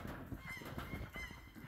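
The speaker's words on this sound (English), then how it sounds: "The geese are going crazy." A flock of geese honking in a noisy, continuous outdoor chorus, calls overlapping without pause.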